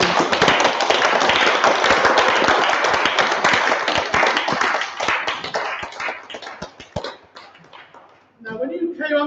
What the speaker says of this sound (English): let's give them one more round of applause to say thank you very, very much